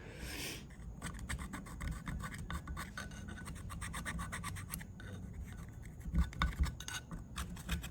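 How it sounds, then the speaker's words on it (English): A tool scrapes residue off the carburetor of a 1969 VW Bus in quick repeated rasping strokes, a dense scratchy rhythm heard up close and fairly quiet, getting more vigorous near the end. "Gonna scrape some of this shmoo"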